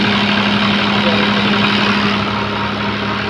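A tractor-driven flour mill machine runs at a steady idle, its low engine drone carrying a firm mechanical hum that holds constant throughout, close and loud.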